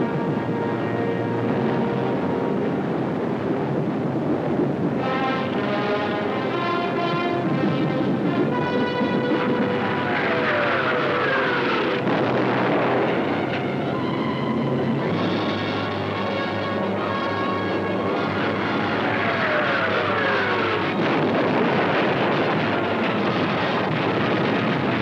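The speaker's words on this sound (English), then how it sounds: "All the available German night bombers were put into the air." German WWII night bombers fly in a steady, continuous engine drone. The droning holds throughout under a broad rumbling wash, with no voices.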